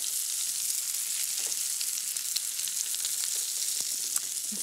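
Patties frying in butter in a pan give a steady, close crackling sizzle with scattered small pops, continuous and even throughout with no voices.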